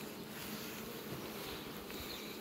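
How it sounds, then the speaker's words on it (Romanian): Honeybees buzz steadily at a hive entrance on a spring farm apiary, workers returning loaded with yellow pollen; a dense, continuous close-up drone with no voices. "Ele încearcă albinoțile, cum vedeți. Bine încărcate, polen galben."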